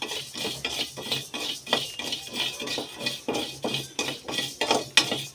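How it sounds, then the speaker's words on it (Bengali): Dry rice being stirred nonstop in a hot kadai: rhythmic scraping and rattling strokes of a spatula against the metal pan, about two a second, close and clear with no voices. "চালটা কিন্তু কড়াটা দেওয়ার পরে অনবরত চালটা কিন্তু নাড়তে হবে"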